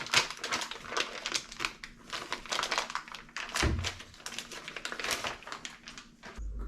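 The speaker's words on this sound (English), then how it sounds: "Open up our new gasket here." Packaging for a new dishwasher door gasket being torn and opened, a dense run of close crinkling, tapping and crumpling noises with a couple of dull thunks, no talking.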